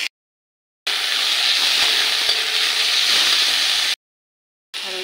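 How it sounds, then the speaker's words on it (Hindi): Onions frying in oil with spices in a pan for potato-onion curry, a loud, even hissing sizzle that starts abruptly, runs steadily for about three seconds, cuts out, then briefly returns. "इसमें ये डालेंगे प्याज। इसको लाल होने तक 5 मिनट तक भून लेंगे"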